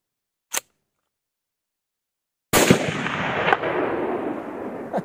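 Sniper rifle fire in a shooter video game such as PUBG or Call of Duty: a sharp isolated crack, silence, then a loud blast with a long rolling echoing tail and a smaller second report.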